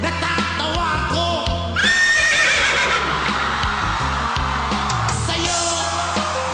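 A man imitating a horse, producing convincing whinnies and neighs one after another, loud and close, with rising and falling squealing tones and snorting breaks, and no talk over it.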